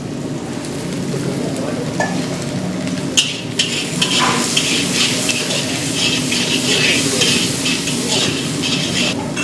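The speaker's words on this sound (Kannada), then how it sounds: "ಈರುಳ್ಳಿ ಒಂಚೂರು ಫ್ರೈ ಆದ ತಕ್ಷಣ ಇದಕ್ಕೆ ಬಟಾಣಿ" Chopped onion frying in a pan with green peas just added, cooked for coriander rice, giving a steady close sizzle with stirring and scraping throughout and a few sharper clatters.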